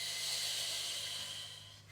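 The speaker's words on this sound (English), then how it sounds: "when we exhale, we kind of have a shushing noise" An exhaled Pilates breath pushed out as a steady shushing hiss, close and fairly quiet, holding evenly for nearly two seconds before tapering off at the end.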